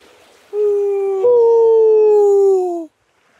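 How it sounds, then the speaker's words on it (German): Wolves howl in a single sustained, tonal call that rises slightly and then slowly falls, lasting about two seconds, loud and close against a quiet background. "Hörst du das? Das sind Wölfe!"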